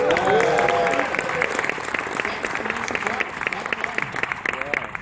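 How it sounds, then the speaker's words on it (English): An audience at a Knoebels East Coaster presentation breaks into loud applause, which thins out into scattered, fading claps over a few seconds. "applause"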